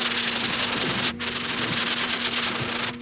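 Block sanding across the door and fender panels of a 1969 C10 pickup, close and loud steady rasping strokes with a brief break partway through and no speech.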